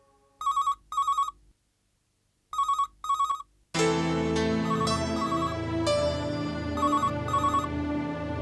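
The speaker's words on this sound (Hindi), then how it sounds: "पता नहीं फोन क्यों नहीं उठा रहा।" Telephone ringing unanswered in a quiet room: two short electronic ring bursts, a pause, two more, then ringing continues faintly beneath a swelling dramatic music bed.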